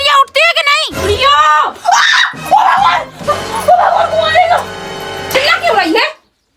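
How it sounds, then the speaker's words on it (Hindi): A woman screams loudly in a Bundeli comedy short, several sharp wailing cries broken by short pauses, close and strained, ending abruptly in silence. "चिल्ला क्यों रही है?"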